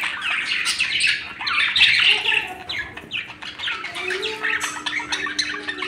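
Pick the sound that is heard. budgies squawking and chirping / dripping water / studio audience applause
budgies squawking and chirping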